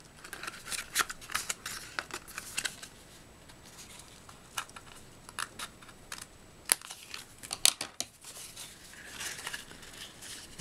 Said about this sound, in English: I'm just going to go ahead and hand cut this